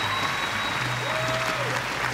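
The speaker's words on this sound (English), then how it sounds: "Applause already from the crowd." Crowd applause at a beach volleyball semifinal at the Québec Open, a broad steady patter of clapping heard at a distance with some background hum and a faint tonal whistle.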